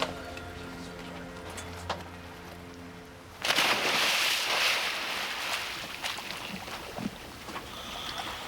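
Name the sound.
boat engines revving at shark dive site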